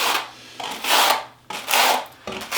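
Quarter-inch square-notched trowel spreading thinset mortar for a pebble shower pan, close and loud scraping in three long repeated sweeps with no talking.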